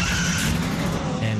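A race car skids with a punctured tire before slamming hard into the wall, a loud, dense burst of tire squeal and engine roar that fills the whole moment.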